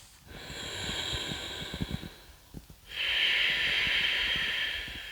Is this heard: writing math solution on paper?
no